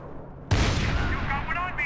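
Gunfire in the Max Payne 3 PC game: a sudden loud burst of shooting starts after a brief quiet and continues as sustained rattling fire, with game voices over it.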